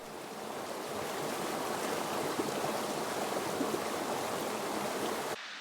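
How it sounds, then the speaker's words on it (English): The Sooke River runs through deep, glacier-carved rock pools, giving a steady, close rushing wash of water that holds at an even level throughout and then abruptly drops away near the end. "the Sooke Potholes, deep, glacier-carved pools along the Sooke River"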